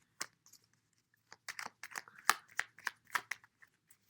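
Tarot cards are shuffled by hand in quick, crisp riffles and slaps, quiet and close, with short gaps between bursts.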